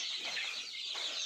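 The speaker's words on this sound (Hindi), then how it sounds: "ये वाली मुर्गी भी 50 के करीब चूज़ों को संभाल रही है" A farm hen tending around fifty chicks gives soft, close clucks against a bright, busy background of high chatter, with no talk.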